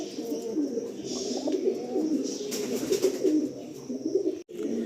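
Tournament-quality racing pigeons cooing in a loft, soft throaty coos repeating in a steady rolling pattern, close and fairly quiet with no talk over them.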